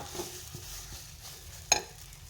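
Suji with coriander leaves being stirred in a kadai, with soft scraping strokes at a steady pace and one sharp metallic clink from the utensil near the pan, all fairly quiet and without any voices.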